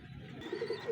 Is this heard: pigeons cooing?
yes